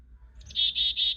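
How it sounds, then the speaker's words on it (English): An electronic chickadee call from an indoor bird clock: a brief rising chirp followed by three steady, high whistled notes in even rhythm, close and alone in a quiet room. "So you guys can tell that's the chickadee."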